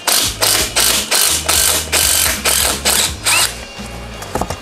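Ratchet wrench loosening 3/8 bolts around the back plate of a Polaris Sportsman transaxle, sounding as seven or eight rhythmic bursts of rapid clicking, loud and close, with no voices.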